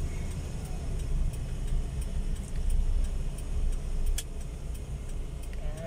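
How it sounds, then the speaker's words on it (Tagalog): Tricycles rumbling past on a road near a school, a steady low motor drone with light ticking and jangling on top, moderately close and continuous, with no talk. "Mga tricycle."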